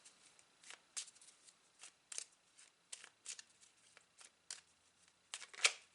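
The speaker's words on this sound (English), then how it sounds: "I am now going to pick 3 cards from this deck" Tarot cards picked one by one from a deck: soft, papery flicks and slides in a loose, irregular series of short brushes, close and fairly quiet, with no talking.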